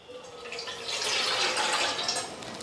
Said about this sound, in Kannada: ಈಗ ಇದಕ್ಕೊಂದು ಸ್ವಲ್ಪ ನೀರು ಹಾಕೋತೀನಿ ರೀ